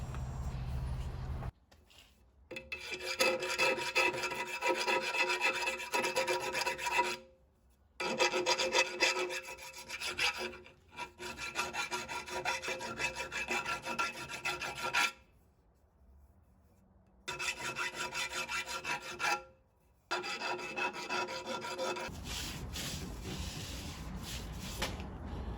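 A tool scrapes and rasps inside a welded hole, clearing weld spatter so a bushing can be pressed in on a Locost 7 kit car, as several long bouts of harsh rubbing separated by brief pauses, close and steady.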